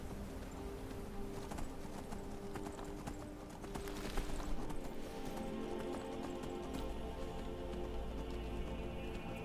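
A horse's hooves clip-clop in a quick, steady rhythm on the ground in Skyrim, moderately near and fairly quiet, with a light rain-like patter beneath them and a brief louder flurry midway.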